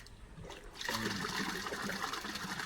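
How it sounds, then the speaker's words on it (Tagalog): Water from a manual hand pump (poso) splashes and trickles steadily, starting softer then rising into a continuous close gush. "Hindi na tinitimba, tumutulo pa."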